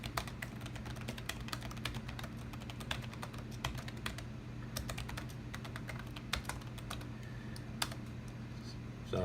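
Touch typing on the keyboard of a 25-year-old Macintosh PowerBook 165 laptop, a rapid, irregular stream of close, crisp key clicks running continuously over a low steady hum, with no talking.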